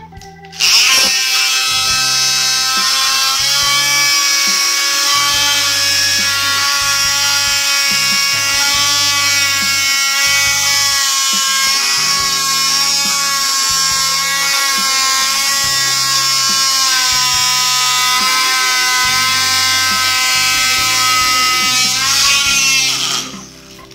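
A mini vacuum cleaner's small motor whirs steadily at high pitch for over twenty seconds, loud and close, with slight wavering before cutting off.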